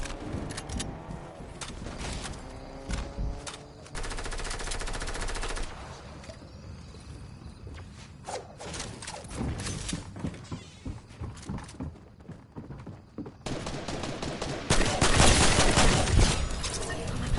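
Rapid bursts of Fortnite primal rifle gunfire crackle through a busy game soundscape, with dense volleys near the start and a louder burst of fire toward the end over constant background game noise.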